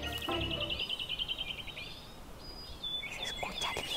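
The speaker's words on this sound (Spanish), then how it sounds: "Se escucha el viento y todos los pajaritos." Birds chirp and trill in a pine and oyamel forest, with bright repeated calls close by, over a steady soft rush of wind through the trees.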